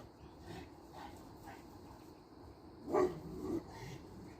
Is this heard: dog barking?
yes